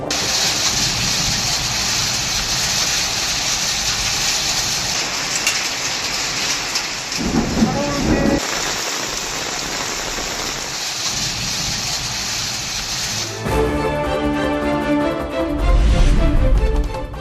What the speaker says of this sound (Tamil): தேனி மாவட்டம் ஆண்டிப்பட்டி சுற்றுவட்டார பகுதிகளில் பலத்த காற்றுடன் கனமழை